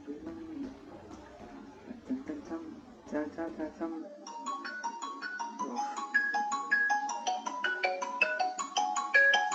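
A phone ringtone for an incoming call plays a bright, repeating melody of quick tones during a War Thunder session with German fighters, rising clearly above quieter game sounds after a few seconds.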